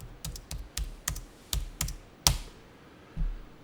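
Keys on a computer keyboard are tapped in a quick, uneven series of close, crisp clicks, with one sharper, louder keystroke like an Enter press, then a pause before a final tap.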